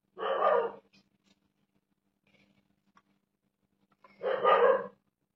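A dog barks twice outdoors in the countryside, two short loud barks separated by several seconds of near silence, fairly close to the listener.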